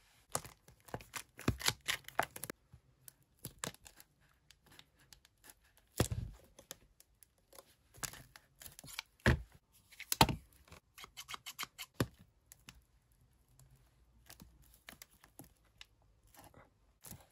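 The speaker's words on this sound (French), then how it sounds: "je vais le couper pour que ça fasse des rouleaux plus fins" A long roll of craft material is cut into thinner rolls with scissors, heard as irregular close snips, crinkles and sharp clicks in uneven bursts with quiet gaps and no talk.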